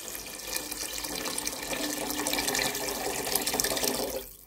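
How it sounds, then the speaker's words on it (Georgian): Water pours steadily into a cooking pot on a home kitchen stove, a continuous close splashing rush lasting about four seconds before stopping abruptly, with no talking. "წყალი ჩავასხათ."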